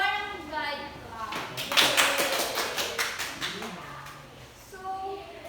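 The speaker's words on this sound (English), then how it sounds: "let's give them a barangay clap" A classroom of students does a rhythmic barangay clap, a burst of quick sharp claps in a patterned sequence, with children's voices and chatter around it.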